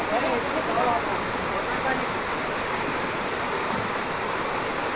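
Verna Spring waterfall in Loutolim, South Goa, India pours as a steady, dense, close roar of falling water, unbroken throughout.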